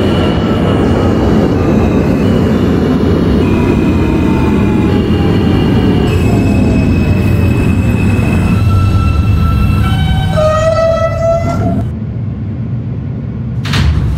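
An R160A Alstom subway train on the F local line runs loudly in a simulated OpenBVE setting, with a steady rumble of wheels and motors, whining tones that rise then drop as it slows, and a brief door or brake sound at the end.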